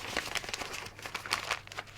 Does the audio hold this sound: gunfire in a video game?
no